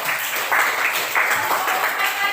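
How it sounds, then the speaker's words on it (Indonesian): A class applauds a student group after its presentation, a dense, steady patter of many hands clapping in a room, with voices faintly mixed underneath. "Tepuk tangan untuk kelompok 1."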